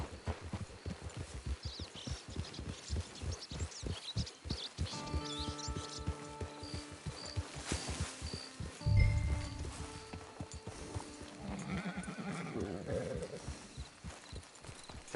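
Steady clip-clop of hooves on the ground in Red Dead Redemption Online, with a horse's whinny and some musical tones joining midway, fairly quiet overall.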